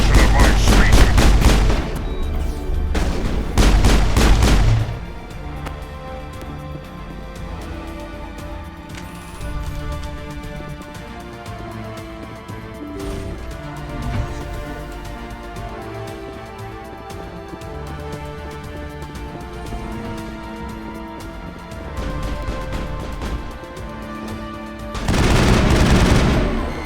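Gunfire in the Mass Effect video game rattles in dense bursts at the start and again at the close, with quieter game music and ambience between the volleys.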